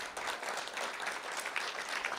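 A crowd at a school board meeting applauds steadily, a dense wash of many hands clapping at once, sustained and fairly loud throughout.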